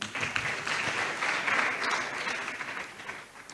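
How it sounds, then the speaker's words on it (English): Guests at a book launch clap together in a brief, dense burst of applause that fills the room, then begins to taper off. "Clap for the man."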